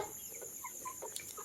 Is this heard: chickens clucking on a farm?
yes